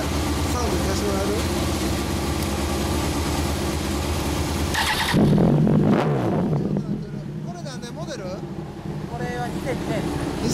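A 2009 Kawasaki Ninja ZX-10R motorcycle fitted with an unbranded aftermarket muffler idles with a throaty rumble, snaps into one sharp loud rev partway through, then settles back down while voices murmur faintly nearby.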